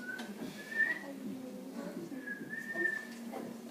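A person tries to whistle, producing two thin, wavering tones separated by a pause and broken by breathy gaps. The tones are faint and close, with no talking.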